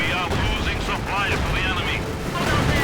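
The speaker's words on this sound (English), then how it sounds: "Panzer IV firing away" Panzer IV tank cannon fire in a World War II strategy video game, heavy booming battle noise running continuously beneath an excited commentator's voice.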